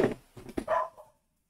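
A dog barks in the next room, giving a few faint, muffled barks and whimpering yelps in quick succession before falling silent.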